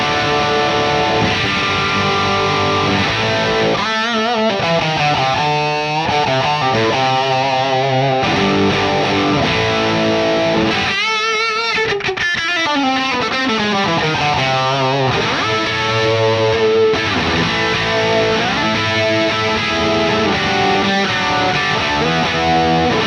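A Metro-Plex MK II 100W guitar amp with every control turned fully up roars with heavily distorted, aggressive guitar chords and riffs, loud and continuous with no talk.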